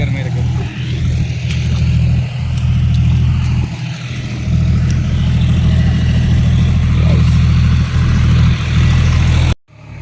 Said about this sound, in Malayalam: ട്രാക്ടർ വരുന്നുണ്ട്.